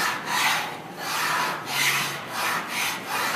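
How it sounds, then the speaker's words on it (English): A hand scraper is worked back and forth over wooden boat planking to lift stain, giving close, rhythmic rasping strokes about every half second. The scraping is moderately loud and there is no talk. "There's not very much stain there, so I work the scraper back and forth,"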